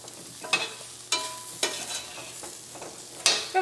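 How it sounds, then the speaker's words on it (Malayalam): Okra sautéing uncovered on a medium flame for a Kerala-style curry: a low sizzle with several sharp spatula scrapes and knocks against the pan, close by, no talking. "നമ്മൾ വാട്ടിയെടുക്കുന്ന നേരത്ത് ഒരു മീഡിയം ഫ്ലെയിമിൽ ഇട്ടിട്ടാണ് ഇത് ചെയ്യാൻ വേണ്ടിയിട്ട്"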